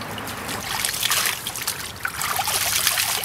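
Water trickling and splashing during a shower on a road trip, a steady close hiss of running water with fluctuating spatters.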